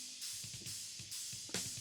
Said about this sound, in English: Hi-hat sounds like this.